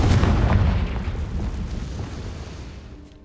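A Confringo fire spell bursting in Hogwarts Legacy, a loud close boom with a roaring, crackling blast that decays steadily over a few seconds into a fading rumble.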